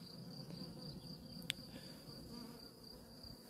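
Honey bees buzz around a hive super packed with honey, a faint steady hum with no talking.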